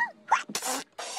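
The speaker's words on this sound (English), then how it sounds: "What a lot of Tomblyboo sneezes." A cartoonish character in the children's TV show In the Night Garden lets out a few quick sneezes in a row, close and sharp, with brief breathy bursts between.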